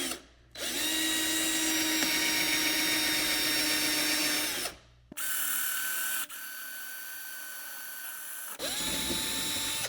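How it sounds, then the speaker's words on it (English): Power drill spinning a bit into a rivet on a Ford Focus front license plate holder: a loud sustained whine that winds down, pauses, then bites again in several bursts, with no talking. "we're going to put our drill bit and we're going to start drilling right there"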